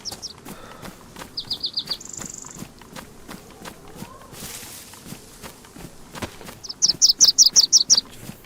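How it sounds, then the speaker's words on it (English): A bird in the survival video game DayZ sings short bursts of rapid, repeated chirps, near and clear, over a background of footsteps crunching through woodland. "Every time I hear that bird, I want to chop down the tree."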